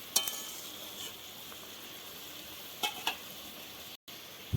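Eggs fry in a pan with a soft, steady sizzle, broken by a few sharp clinks of a utensil against the pan.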